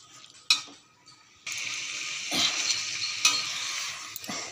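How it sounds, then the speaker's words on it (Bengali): Spinach curry is stirred in a frying pan, a steady sizzle with scraping and a few sharp clinks of a utensil on the pan, preceded by a short quiet pause, no speech. "চলো একটু নেড়ে দিলাম"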